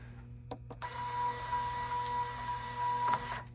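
A Zebra ZT411 label printer feeds out a single label with a short motorized whir. The even mechanical hum lasts about three seconds before stopping, with a couple of faint clicks.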